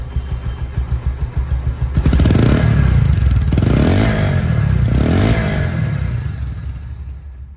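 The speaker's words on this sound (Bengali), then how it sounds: "দেখেন সাইলেন্সার মানে রানিং অবস্থা আছে ইঞ্জিনটা" A secondhand Pulsar motorcycle idles through its silencer, a steady close engine drone that swells louder partway through with a rapid rhythmic thump and light mechanical clatter, with no talk.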